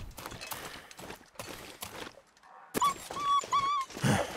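A wolf whimpering in the video game The Long Dark, with high, wavering whines near the end, following a stretch of soft thumps and shuffling.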